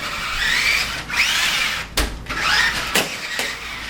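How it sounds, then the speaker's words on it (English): An RC Pro Scorpion remote control car speeds around indoors in an apartment. Its electric motor whines up and down in close bursts, broken by sharp knocks and clicks. "let's check how fast the vehicle operates"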